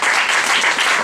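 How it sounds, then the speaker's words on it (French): Audience applause fills a live performance venue at l'Etage, a steady dense clapping wash that continues throughout without pause. "Sous un tonnerre d'applaudissements."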